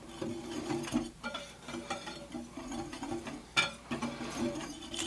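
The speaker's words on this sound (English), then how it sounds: "we're just going to whisk this together until it is nice and combined" Pumpkin pie spice and salt whisked together in a mixing bowl, with a steady scraping, rhythmic swirl and light clinks of the whisk against the bowl, close and moderately quiet.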